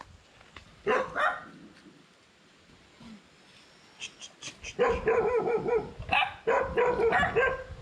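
A collared dog barks in a Philippine jungle valley, sending out short bursts of repeated yaps and yips at close range, first a few barks and then a longer rapid volley, with no talk over it.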